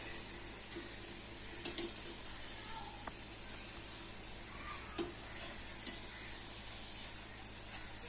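Gulab jamun dough balls fry in oil over a medium flame, giving a steady, even sizzle with a few small pops and light clicks of a utensil nearby.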